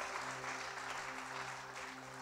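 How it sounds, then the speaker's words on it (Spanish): A church audience gives a sustained round of applause for volunteers, even clapping at a fairly quiet level over a faint low steady hum, with no speech. "Denles un aplauso bien fuerte, cada voluntario, cada persona"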